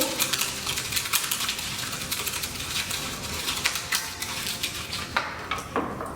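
A whisk mixes hair colour in a bowl, giving a steady, fast rattling scrape of wire on the bowl that runs close and continuous throughout, with no talking.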